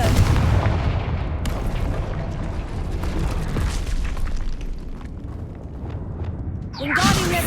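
Confringo spell blasts in the video game Hogwarts Legacy: loud booming explosions and rumbling bursts fill the stretch continuously, with a sharper crackling burst near the end.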